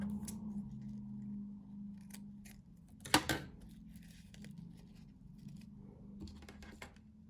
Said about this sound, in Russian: Лишнее обрезаю и все подклеиваю.